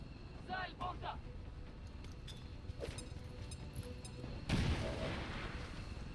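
A frag grenade explodes in XCOM 2 Long War of the Chosen, a sudden loud boom about two-thirds of the way through that trails off into a rumbling wash, following quieter game effects.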